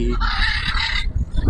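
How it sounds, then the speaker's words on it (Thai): A fluffy-feathered chicken clucks at a zoo: one loud, close, nasal call lasts about a second over busy crowd background noise. "ไก่ขนปุกปุย"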